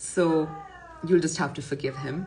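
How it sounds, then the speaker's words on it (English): A pet cat meows in the background under continuous close speech, its harmonic cry rising briefly at the start before a person talks over it. "that's my cat making some sounds in the background."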